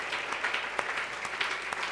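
A church congregation claps and applauds during a Sunday worship service: a steady, dense wash of hand claps with scattered sharper claps, moderately loud and sustained.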